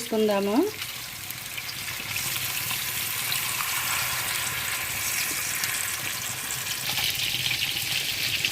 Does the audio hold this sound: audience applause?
no